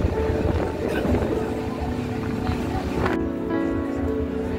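Steady low rumble of a Goghat local train rolling into Loknath station, with rail clatter and a shift in tone near the end as it slows; loud and close throughout.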